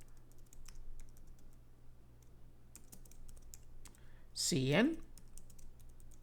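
Fingers type C++ code on a computer keyboard: scattered light clicks and key taps run throughout while someone talks over them.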